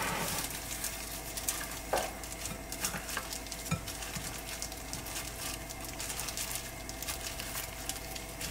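Hilsha fish marinated with salt and turmeric frying in a pan: a steady, soft sizzle close by, with occasional stirring and utensil clinks and no talk.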